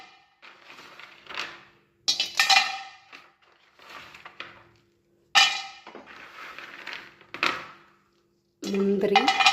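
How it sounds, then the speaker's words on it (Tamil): Almonds tipped into a pan of roasted green gram, several bursts of hard clattering and rattling against metal separated by pauses, with a person speaking between them. "இப்போது பாதாம் சேர்க்க போகிறேன்."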